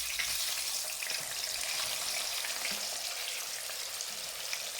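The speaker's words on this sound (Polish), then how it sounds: "Ten tofu trzeba smażyć" Tofu fries in hot oil in a Chinese home kitchen, giving a steady, dense sizzle that crackles continuously at close range with no voices over it.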